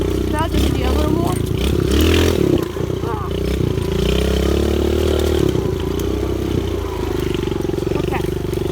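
A small pit bike motorcycle ridden on dirt trails, its engine buzzing loudly and continuously up close with frequent revving surges and clattering over bumps, while a voice talks over it.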